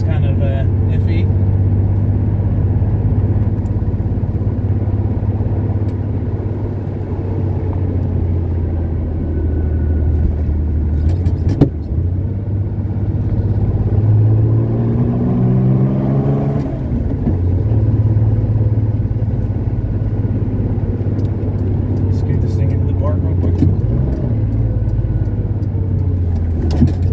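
A 1970 Porsche 911T on a road test, its engine giving a steady, loud, low rumble heard from inside the car as it drives, with brief bumps and rattles along the way.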